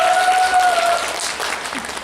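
Audience at a Korean company site introduction applauding a team leader, a short burst of close, lively clapping that fades slightly near the end.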